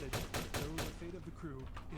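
Rapid bursts of automatic weapon fire from a gunfight in the game Vampire the Masquerade Bloodlines, with four loud evenly spaced blasts in the first second followed by messier shooting and clatter.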